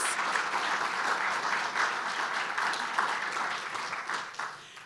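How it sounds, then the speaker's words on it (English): An audience at an indoor presentation applauds the Freshwater Land Trust staff, sustained, even clapping from a roomful of people that holds steady, then tapers off near the end. "they deserve a huge round of applause"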